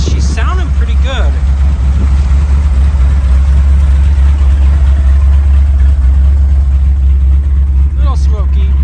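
A 1979 Ford Bronco's engine idles and warms up with a carburetor being tuned, giving a steady, loud, low rumble that holds even throughout, with faint voice traces over it.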